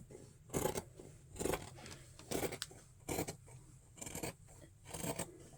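Scissors cut through fabric for an apron with about seven steady, evenly spaced crisp snips, close and moderately quiet, with no talk.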